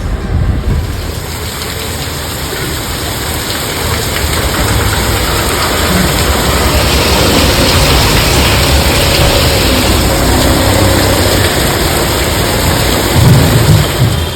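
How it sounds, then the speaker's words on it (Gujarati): Heavy rain roars as a thick, unbroken wash of noise, with a low rumbling undertone throughout and no talking. "આપણે વરસાદ તો બહુ જ આવ્યો"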